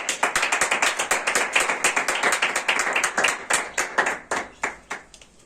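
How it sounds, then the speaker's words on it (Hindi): A Sunday church congregation claps in a fast, steady rhythm of sharp, close hand claps that slow and thin out toward the end. "खुदा के खादिम और खुदा के कलाम के लिए जोरदार ताली"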